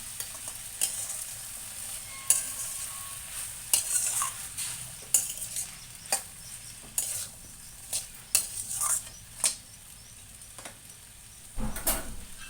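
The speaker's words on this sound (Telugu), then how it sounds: "ఇందులో వేసిన కట్ చేసిన బంగాళాదుంప ముక్కలు శుభ్రంగా కలుపుకోవాలి." Cut potato pieces being stirred in a frying pan, giving a series of scraping, clinking strokes at irregular intervals over a soft background sizzle, fairly close and moderately quiet.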